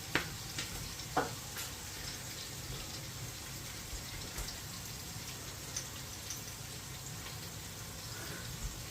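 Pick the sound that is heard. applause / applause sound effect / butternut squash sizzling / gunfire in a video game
butternut squash sizzling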